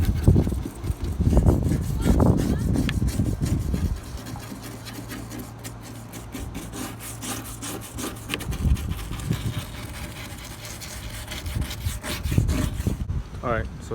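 A tool scratches across the plastic lens of a 2006-2012 Cadillac DTS third brake LED trunk light, a steady close rasping scrape running continuously with a few pauses in intensity.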